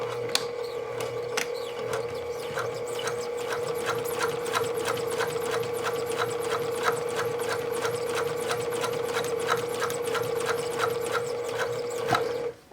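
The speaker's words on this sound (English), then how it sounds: "So let's head to the sewing machine." Sewing machine stitching a centered zipper into a seam at long stitch length, a rapid even train of mechanical clicks over a steady motor whine, close and continuous until it stops abruptly at the end.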